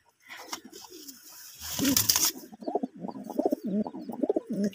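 Kaldama-style pigeons coo close by in a low, throaty, repeating rhythm, following a brief rustling burst like fluttering wings.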